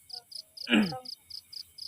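A field cricket trills at night in the dark countryside of Sragen, Java, during Ramadan, giving close, evenly spaced pulsing chirps, with a brief rough noise cutting in midway.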